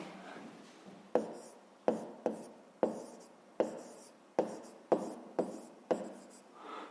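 A math answer being written down by hand, a run of about ten distinct taps and short scratching strokes in an uneven rhythm, close and fairly clear, with no speech.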